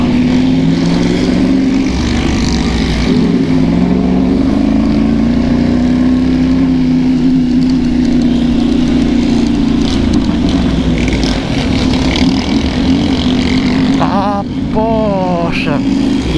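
Loud, continuous roar of motorcycle engines passing close by, with revving and a whining pitch rising and falling throughout, plus a brief high squeal near the end.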